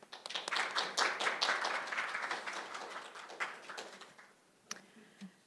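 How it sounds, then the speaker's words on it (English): An audience at a hydrogen expo seminar applauds warmly, a dense wash of clapping that gradually thins out, ending with a few scattered claps. "Please join me in giving her a warm round of applause."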